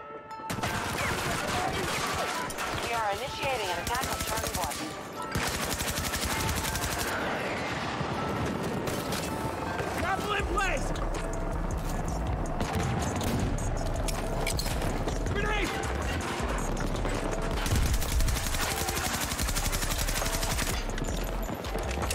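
Dense gunfire in the video game Battlefield 2042: sustained automatic bursts, booms and crashing impacts pile up continuously for the whole stretch, loud and busy with no clear voices over it.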